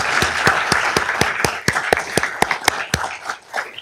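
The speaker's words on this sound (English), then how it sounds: "Yes, please applaud." An audience at a city council meeting claps for a few seconds, a dense burst of applause with some loud, evenly spaced claps standing out near the microphone.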